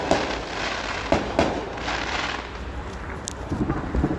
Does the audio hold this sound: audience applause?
no